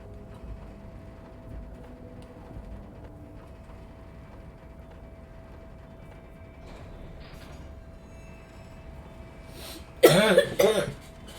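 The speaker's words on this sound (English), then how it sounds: "Something that causes coughing fits." A short, loud burst of coughing in the video game Disco Elysium breaks through a quiet, low background hum near the end.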